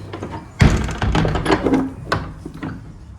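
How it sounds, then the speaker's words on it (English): A door at All Saints church in Walcott, Norwich, shuts with a heavy, close wooden thud, followed by softer knocks and rattles as it settles. "shut the door"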